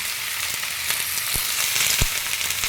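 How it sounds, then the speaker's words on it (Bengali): Brinjal and mixed vegetables fry in a pan with a steady, dense sizzle and a couple of soft clinks of stirring, close and continuous. "বেগুনটা দিয়ে একটুখানি ভেজে নেব"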